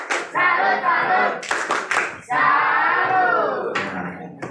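Junior high school students clap a rhythmic salute clap during a police traffic-safety outreach session, quick bursts of loud group clapping mixed with shouted chanting voices.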